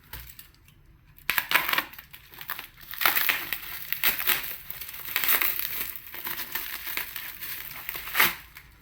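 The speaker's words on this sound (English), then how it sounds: "Slice through the packaging." Product packaging for an SMSL PO100 Pro DDC is sliced open during an unboxing, giving a run of close, crisp cutting, crinkling and crackling bursts with short pauses between them.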